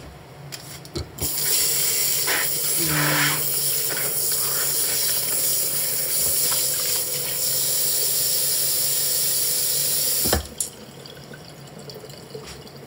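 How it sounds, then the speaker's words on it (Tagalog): Chicken boils in a pot, giving off a steady loud hiss of steam with bubbling water beneath. A few knocks come near the start, and the sound cuts off sharply near the end. "Ako'y mag-boil ng chicken ng aking lolo."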